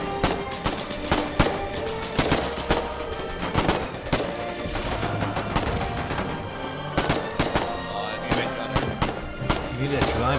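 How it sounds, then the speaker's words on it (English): Dense, continuous gunfire and automatic weapon bursts in the war game Foxhole during a counter attack on an armored car, loud and close, with thuds of heavier fire underneath and voices talking over the battle. "Focus fire on the AC. Keep firing, keep firing, keep firing."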